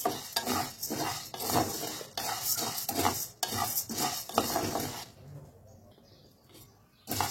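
Sago khichdi is stirred briskly in a pan with a metal spoon, making rhythmic scraping and rattling strokes for about five seconds, then stopping to near silence before a final scrape.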